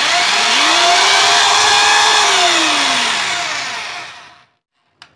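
A rotary hammer fitted with a chuck and bit runs as a drill, a loud whining motor that rises, holds and then winds down to silence, followed by a brief click.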